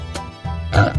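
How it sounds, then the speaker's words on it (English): A pig gives a short, throaty grunting oink up close, with a low rumbling tone that lasts about a second. "Pig."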